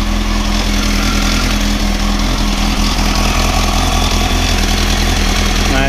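A motorcycle engine under repair is held at steady raised revs, making a loud, continuous, close-up droning roar that stays even throughout, with no talking over it.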